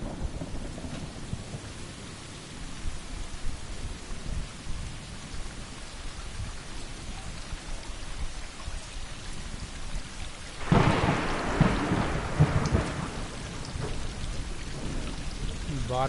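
Rain and thunder in the video game Stray: steady rainfall patters throughout, then a loud thunderclap rumbles in partway and slowly fades back into the rain.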